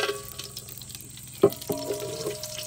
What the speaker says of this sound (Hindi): खड़े मसालों को थोड़ी देर के लिए फ्राई करेंगे।